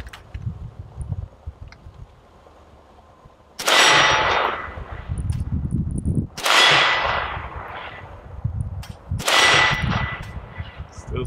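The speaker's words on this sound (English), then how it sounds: "See if we can get a couple hits here on the steel" Three loud rifle shots from a Century Arms AK63D AK-47 variant ring out a few seconds apart, each cracking sharply with a metallic clang off a distant 10-inch steel plate, the ringing decaying between shots.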